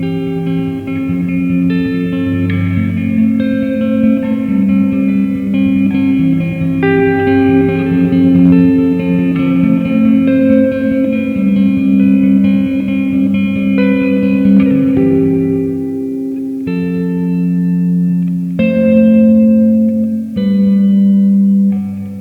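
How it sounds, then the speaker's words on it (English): A sustained electric guitar passage rings out through the Hall setting of a Walrus Audio reverb pedal, notes blooming and lingering into a long, washy tail. "Let's jump over to Hall on the reverb."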